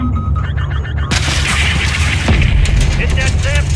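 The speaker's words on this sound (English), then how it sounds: "Gunner, drop a missile on that SAM site." A missile strike on an enemy SAM site in Call of Duty Modern Warfare 3 gives a sudden loud blast that opens into a sustained roaring rumble with crackling debris. It is close and heavy, over a constant battle din.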